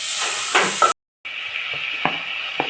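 Onions frying in a pan on a home kitchen stove, a steady close sizzle with a few stirring scrapes, briefly cut out for a moment before the sizzling resumes.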